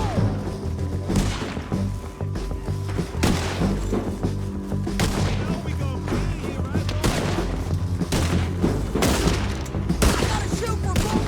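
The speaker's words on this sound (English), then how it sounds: "I gotta shoot for both of us!" Dense gunfight in Red Dead Redemption 2, rapid overlapping shots and booming blasts firing steadily for the whole stretch, loud and close, with shouted voices mixed in.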